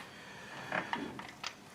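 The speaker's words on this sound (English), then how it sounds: "now we can get a 5/8 inch spark plug socket and remove all four spark plugs" A 5/8 inch spark plug socket on a ratchet works loose the plugs of a 1.4L Chevrolet Sonic engine, giving a few short, close metallic clicks and scrapes in quick succession, with no talk.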